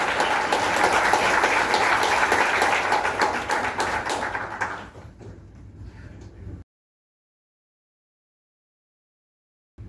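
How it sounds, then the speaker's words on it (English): Audience applause at a program event, dense clapping that holds steady, tapers off into scattered claps and then cuts abruptly to silence. "Round of applause, ladies and gentlemen,"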